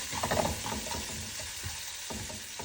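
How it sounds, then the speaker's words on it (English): Ginger sizzling and sautéing with salt in a pan for a salmon curry, with a steady frying hiss and irregular scraping stirs from a spatula, fairly quiet and continuous with no talk. "Keep stirring until it's like slightly brown."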